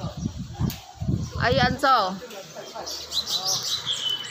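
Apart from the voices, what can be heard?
birds chirping outdoors in Taiwan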